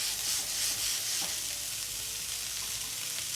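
A smash burger patty, laid salt side down in a hot cast iron skillet, sizzles and fries with a steady bright crackle, close and continuous, alone with no talk.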